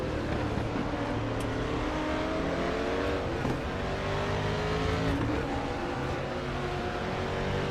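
A Ford Mustang DTM race car from 1992 roars at Chang circuit in the Raceroom video game, its engine droning loud and steady as it climbs through gears with rising and falling revs.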